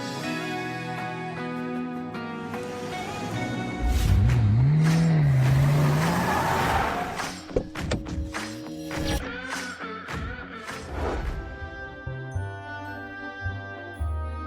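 A car that people climb into, its engine rising in a brief revving swell midway through, layered under steady background music with no talking.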